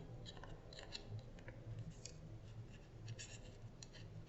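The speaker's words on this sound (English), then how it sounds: "get your scissors in there." Repeated crisp snips of scissors cutting through paper, quiet and close, in short irregular bursts with no talking.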